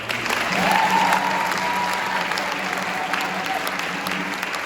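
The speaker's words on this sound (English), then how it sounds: "if we can all take a moment to clap" Sustained audience applause at an orchestra concert's closing remarks, a thick, even roar of clapping that swells slightly early on and then holds steady, with faint voices mixed in.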